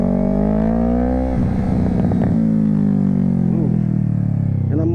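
A 2020 Yamaha R3 motorcycle engine revs loudly and up close, its steady drone swelling and settling over several seconds with brief rougher bursts as the throttle is worked.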